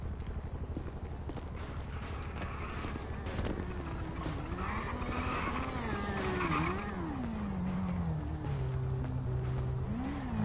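Motorcycle engine in a video game, a steady droning hum with rising and falling revs over about ten seconds and a whooshing wind layer, no talk heard.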